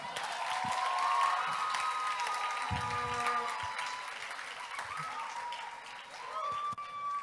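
Sustained applause from an audience at a career fair event, steady and fairly loud throughout, with some voices and whistles mixed in the crowd.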